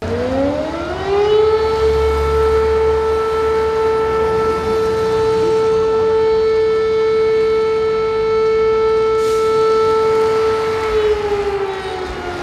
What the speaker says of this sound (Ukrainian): Вмиканням електричних сирен пройшла комплексна перевірка засобів оповіщення.